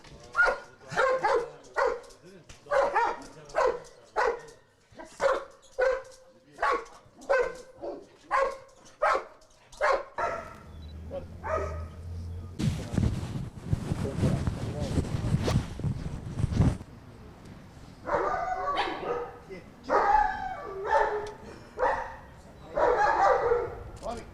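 A search and rescue dog at a training workshop barks in a fast, regular series of loud, close barks. Someone speaks amid some rustling and wind noise, and then the barking resumes in shorter bursts.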